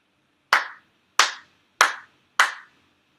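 Four ceremonial hand claps at a monthly Shinto ceremony in Chula Vista, evenly spaced, loud and close, each sharp clap ringing briefly in a quiet room.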